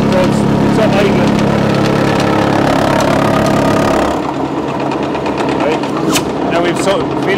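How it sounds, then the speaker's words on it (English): A vehicle engine idling in neutral in a workshop, a steady low rumble that holds for about four seconds before dropping to a quieter, rougher idle, loud and close with a voice heard over it. "so it's in neutral there now at the minute, but basically doing nothing, so it's up idling"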